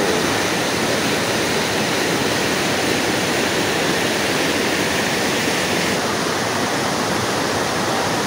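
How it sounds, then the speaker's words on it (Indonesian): Water rushes hard between the rocks at Curug Tonjong waterfall. A steady, loud, broadband roar carries on unbroken with no voices. "Ini air yang masuk di sela-sela bebatuan, airnya deras di bawah ini."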